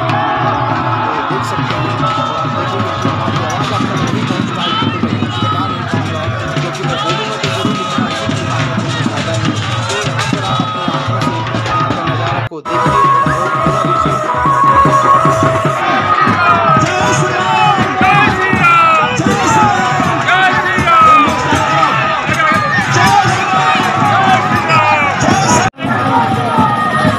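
A dense, loud crowd fills a Ram Navami procession in Hazaribagh, Jharkhand, with continuous babble, shouts and cheers; voices and a steady rumble run throughout, broken by two brief drops.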